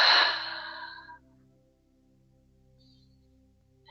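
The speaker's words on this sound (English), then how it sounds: "Take a deep breath." A single deep breath, drawn in and let out loudly and close for about a second during a calm anxiety-release exercise, then near silence with a faint low hum.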